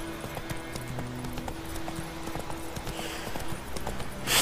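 Roach, the horse in The Witcher 3, gallops in a rapid, steady hoofbeat rhythm, close and fairly loud over a low game ambience, building slightly at the end.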